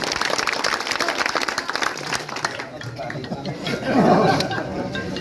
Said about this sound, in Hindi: जोरदार तालियों से स्वागत किया जाए।